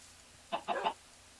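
Chickens in Minecraft give a quick pair of soft clucks, faint and close, alone against quiet background.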